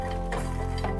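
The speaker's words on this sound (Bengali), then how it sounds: "এবার কিছু পরিমাণ মাখানা নিয়ে শুকনো খোলায় ভেজে নেব।" Makhana (fox nuts) are dry roasted in a kadai on a high gas flame, stirred with a clattering, scraping rattle against the pan over a steady low hum.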